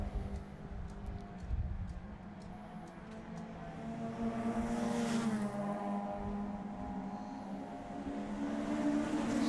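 Race cars on a circuit braking hard as they head down into turn 1, engine notes dropping and blending into a steady, fairly loud roar of several cars passing close by.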